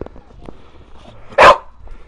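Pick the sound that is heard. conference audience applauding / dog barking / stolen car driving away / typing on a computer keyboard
dog barking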